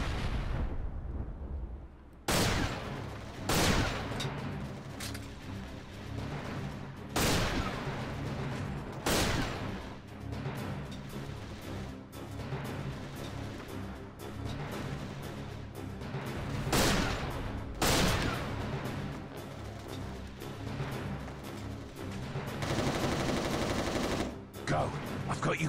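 Rapid bursts of gunfire from the Resistance: Retribution video game crack out repeatedly over a dense, continuous battle din, loud and close, with sharper volleys every few seconds.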